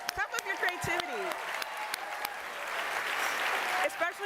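Applause from a small group, scattered claps building into a steady patter, with a voice talking over the start and end.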